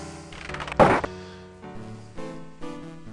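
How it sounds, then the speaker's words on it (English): A single dull knock on a door sounds in the Quest for Glory 4 video game. One short thud rises briefly above soft, sustained background game music. "Knock on a door."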